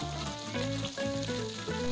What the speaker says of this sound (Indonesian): dan masukkan ikan tongkol yang udah kita belah jadi 4 tadi. Kemudian kita goreng.